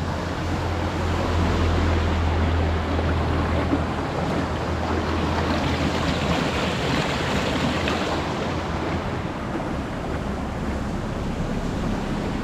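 Strong, continuous rushing of irrigation water flowing in a rural canal, loud and dense with no pauses, steady from start to finish.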